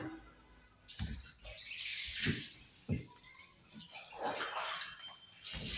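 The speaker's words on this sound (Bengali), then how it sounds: "পানিতে ধুয়ে দিলাম।" Clothes being washed by hand in water produce close splashing and sloshing in repeated bursts, each with a soft thump as wet fabric moves, with no talking.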